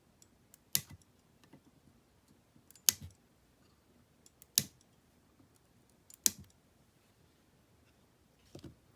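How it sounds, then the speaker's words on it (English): Wire cutters snip the excess component leads on a circuit board, five sharp, close clicks spaced a second or two apart in an otherwise quiet setting. "And now I just need to trim the excess wires."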